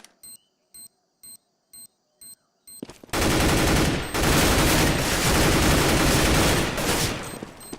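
A planted bomb in Counter-Strike: Global Offensive beeps in short, evenly spaced high electronic pulses. A sudden burst of loud, sustained gunfire then swamps the beeping.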